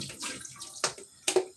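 Water poured over rice to rinse off starch, a close splashing trickle with a few sharper sloshes and splashes as the stream moves around the bowl.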